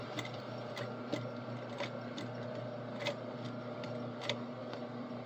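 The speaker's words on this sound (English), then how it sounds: "Now it's been back stitched as much as necessary to hold everything in place." A sewing machine back-stitching a zipper rattles with a fast, steady mechanical clatter, marked by sharp periodic clicks over a constant motor hum.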